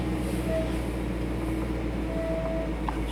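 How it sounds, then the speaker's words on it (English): Vehicle brakes squeal in two short, thin high squeaks over a steady low road and engine rumble from inside a moving car. "Squeaky brakes."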